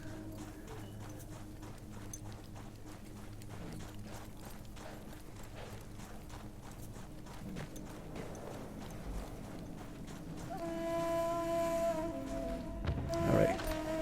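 Horse hooves clip-clop in a steady walking rhythm, moderately near, with a droning background and a rising squeal toward the end.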